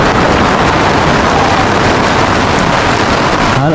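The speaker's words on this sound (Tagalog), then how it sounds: "Halos walang pahinga dito mga katsoy ang ulan." Heavy, persistent rain in Cavite, Philippines, pouring down as a dense, loud, unbroken hiss throughout, with no speech.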